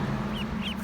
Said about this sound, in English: Ducklings are so fun.